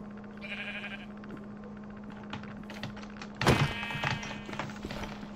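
A sheep in a Minecraft modpack bleats once, a short nasal call, after some light clicking and tapping; a sharp thunk and clatter follow near the end.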